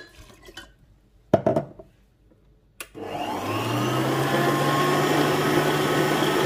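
A stand mixer kneading Moroccan bread dough starts up after a few clicks and knocks, then runs as a steady, loud motor whir with a low hum, continuing alone without talk.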